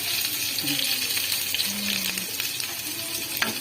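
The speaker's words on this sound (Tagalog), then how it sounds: "tayo po ay magigisa" Food sautés in a pan over a low flame, a steady close sizzle and crackle with faint stirring scrapes and no talking.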